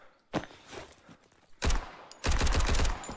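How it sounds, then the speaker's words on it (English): Bursts of MP5 submachine gun fire in the shooter game Road to Vostok: a short volley near the start, then two longer rapid automatic strings that are loud and close, with no talking. "Let's give the MP5 a try."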